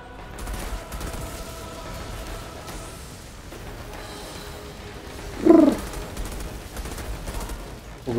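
Birds in Outriders Worldslayer, a video game, with faint chirps and coos over a low game ambience, then one louder sharp burst near the end, which may be weapon fire, amid muffled background sound and no clear talk.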